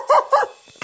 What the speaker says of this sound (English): Quick, get after the dog!